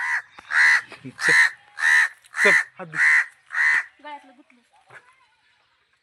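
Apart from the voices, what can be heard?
crow cawing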